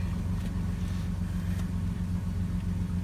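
A 2001 Dodge Ram engine running at a steady low idle, a continuous close rumble with an even throb and no clear cranking start, moderately quiet.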